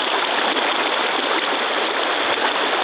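Steady, broadband rushing of the South Platte River in winter, about a mile above Deckers, flowing continuously and evenly close by with no voices.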